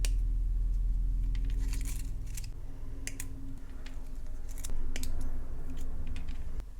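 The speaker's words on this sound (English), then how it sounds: "let's go ahead and cut some 24 gauge wire for the leaves" Wire cutters snipping 24 gauge craft wire for jewelry making give a few sharp, close clicks and snaps over a steady low background hum, with no talking.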